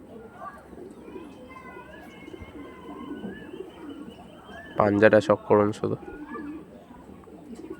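Several show-quality pigeons coo softly in the background, with a burst of louder, closer cooing partway through while someone talks over them.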